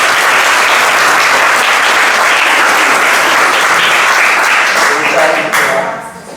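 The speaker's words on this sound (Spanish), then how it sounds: "Yo quiero un aplauso para él." Audience applause at the close of a talk on ancestral food knowledge and gastronomy, dense steady clapping from a crowd that fills the room and fades out in the final second.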